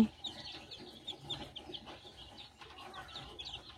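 Many newly hatched chicks in a brooding coop peep and chirp continuously in a busy, overlapping chorus, fairly close, with soft rustling underneath and no talking.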